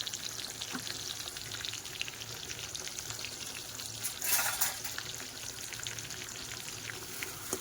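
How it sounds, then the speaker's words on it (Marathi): Household masala with turmeric and coriander-cumin powder fries in oil for a red prawn curry, a faint, steady crackling sizzle that holds throughout and swells briefly to a louder spit midway. "चांगलं तेल सुटेपर्यंत भाजून घेऊया."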